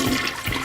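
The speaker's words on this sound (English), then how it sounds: "In Finding Nemo, if you flush something down the toilet, it ends up in the ocean." A household toilet flushes with a goldfish in the bowl, a loud, close rush of swirling water filling the short moment.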